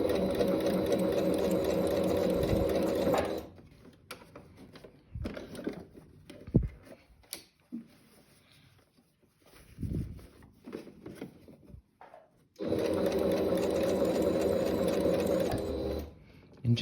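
A sewing machine stitches a short sleeve onto a dress or top in two loud steady bursts at the start and end, with quieter handling and fabric rustling between them.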